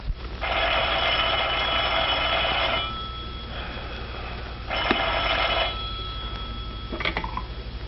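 An old-style 1930s telephone bell rings in long bursts with pauses between, loud and close, followed by a short clatter near the end.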